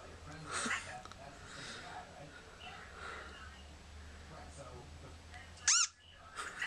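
A sharp little squeak from the Kittens app on an iPod sounds once near the end, brief and bright, over a low, steady background hum.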